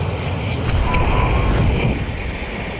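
Steady, loud drone of an airplane engine inside the cabin during a video game skydiving jump, a continuous low rumble with no talk.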